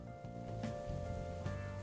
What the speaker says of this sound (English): Wow, that rain is incredibly loud. Listen to that rain.